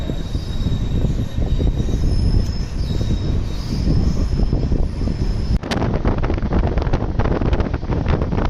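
A Yelagiri Express passenger train runs between Chennai and Jolarpettai. Its loud, steady rumble of wheels and carriages continues throughout, with wind buffeting the microphone and a sharper clatter in the last few seconds.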